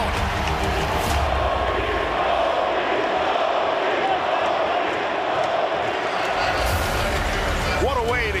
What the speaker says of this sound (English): They are all standing and shouting his name.